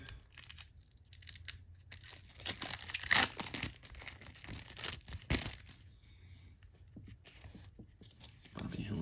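The plastic wrapper on a 1989 Maxx NASCAR racing card box is cut and torn open, giving crinkling, tearing and sharp cracking sounds in bursts while someone talks.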